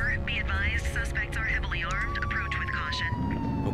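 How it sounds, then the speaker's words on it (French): A police car siren in the video game The Precinct wails with a long, slowly falling tone, fairly faint beneath someone talking over it and game sounds. "Voilà, on peut mettre la sirène, c'est bien ça."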